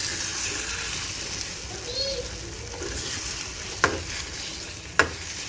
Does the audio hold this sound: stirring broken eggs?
yes